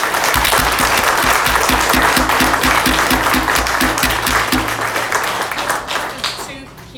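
Sustained audience applause at an equity crowdfunding launch party, dense steady clapping from a crowd with some voices mixed in, fading toward the end.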